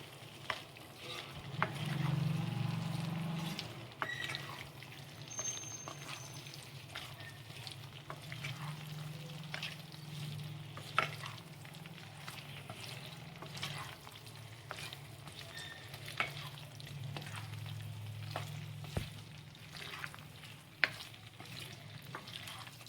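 Beetroot pasta made from rice flour is stirred in a frying pan, giving a soft, steady low sizzle with scattered scraping taps from the spoon, fairly quiet and continuous with no talking.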